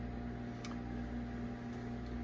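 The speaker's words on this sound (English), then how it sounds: "If you can hear something going on in the microwave, those are the eggs." A microwave oven cooking eggs hums with a steady low electrical drone and a faint tick or two, close and constant, with no talking.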